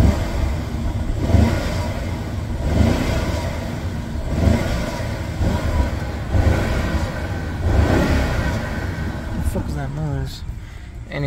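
A car engine revving in sport mode after a fuel module fix, several swelling rev pulses rising and falling over an idle, under someone talking throughout.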